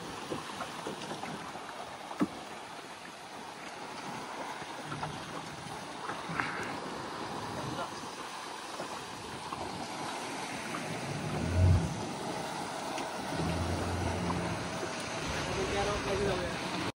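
Sea water surges into gaps in the rocks at a secret spot near Malvan's Golden Rock and gushes back out, a continuous rushing wash with a stronger surge midway, under people talking.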